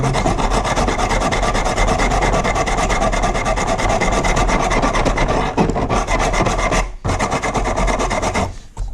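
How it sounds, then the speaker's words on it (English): Steady, continuous rasping of sandpaper rubbed by hand over wood, close and loud, with a couple of brief pauses near the end. "let's give it a little sand."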